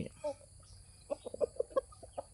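Short clucks come from a nine-month-old chicken: one or two early notes, then a busier cluster of about eight clear clucks in quick succession, close by over a faint background murmur.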